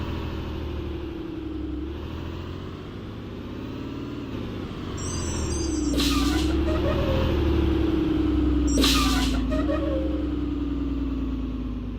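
A four-wheel drive vehicle's engine rumbles steadily throughout, with a low drone that swells and eases as the revs shift, plus a couple of brief bright bursts of noise midway.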